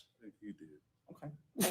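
A loud sneeze bursts out near the end, sharp and close, after a few short phrases of speech in a courtroom setting.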